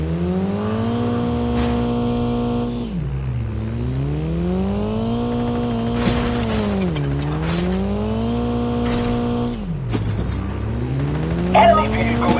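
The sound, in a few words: vehicle engine in Call of Duty Mobile video game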